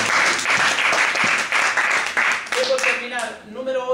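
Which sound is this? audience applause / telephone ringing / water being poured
audience applause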